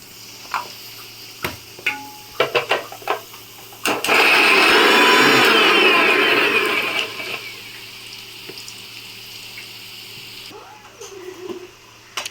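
A kitchen mixer grinds a small batch of garlic, green chilli, half an onion and a little ginger into spice paste, roaring loud and close for about three seconds before winding down, with light kitchen clatter before and after.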